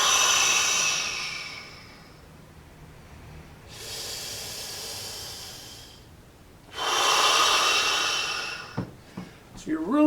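Long, forceful breaths pushed out during a hanging scapular exercise, heard as three sustained hissing exhalations close to the mic, with quieter gaps between them.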